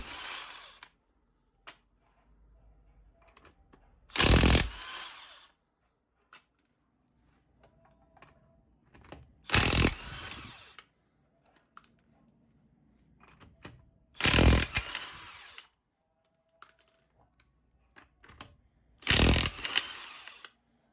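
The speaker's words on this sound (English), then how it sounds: "Using a 22 millimeter socket here, I'm gonna go ahead and remove the lug nuts." A power tool with a 22 mm socket spins lug nuts off a truck wheel in four separate loud bursts of a few seconds each, with quiet handling noises between them.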